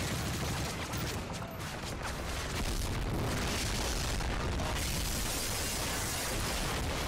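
A huge explosion in the Modern Warfare 3 campaign. A loud, rumbling blast fills the whole span with heavy low booms and crackling debris, then rises into a sustained roaring wall of noise.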